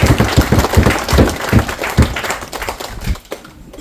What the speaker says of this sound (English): So let's give a big round of applause for everybody that we mentioned today.